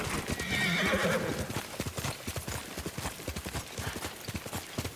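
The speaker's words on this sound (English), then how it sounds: "Good horse." A horse's hooves clip-clop in a steady galloping rhythm in the video game Ghost of Tsushima: Director's Cut, with a loud whinny near the start over a busy, continuous background.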